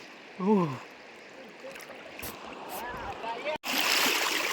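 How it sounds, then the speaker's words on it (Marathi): Fast-flowing river water rushes steadily in the Konkan countryside, a constant loud wash near the listener, with a short voice breaking in near the start. "पाण्याचा वेग जबरदस्त आहे"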